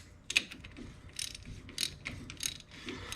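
Quick clicking bursts of a ratchet snugging down the fill plug on a 1973 Plymouth Duster's Mopar 8.25 rear axle, several short runs of pawl clicks close by in a quiet garage.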